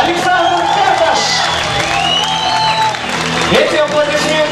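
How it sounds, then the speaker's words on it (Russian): Continuous clapping from a boxing crowd after a bout ends by stoppage, with cheers, whoops and shouts mixed in and voices talking through the noise. "Эти аплодисменты наверняка и адресуются его сопернику."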